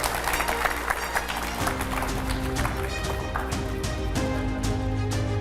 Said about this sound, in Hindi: एक बार जोरदार तालियों से स्वागत हो जाए अनिरुद्धाचार्य जी का